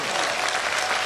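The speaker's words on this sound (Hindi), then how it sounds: "एक बार जोरदार ताली बजनी चाहिए हमारे अनुज के लिए" Audience at a Hindu gathering applauding loudly, a dense, continuous wash of clapping from a large crowd filling the whole moment, close and energetic.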